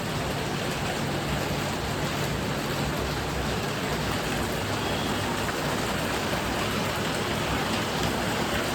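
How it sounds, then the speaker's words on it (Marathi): Steady, dense rain pours down without a break, a constant broadband hiss of drops hitting surfaces close by. "पाऊस बघा, सकाळसारखाच पाऊस पडतोय"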